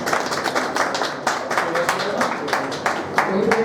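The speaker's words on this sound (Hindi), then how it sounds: "ज़हीर भाई का बहुत जोरदार तालियों से स्वागत" Loud welcoming applause at a crowd gathering, a fairly steady stream of claps from many hands, close and continuous, with crowd noise underneath.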